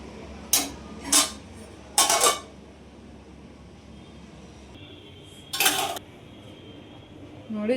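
A plate set down and a serving utensil clinking while jowar roti oggarane is dished up, four sharp metallic clinks in quick succession then one more after a quiet pause, close and distinct with no talk.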